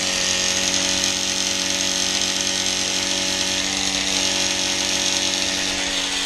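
A needle cutter spins steadily at 5,000–6,000 RPM while cutting, producing a loud, unbroken high-pitched whine with a steady tonal hum, close and alone.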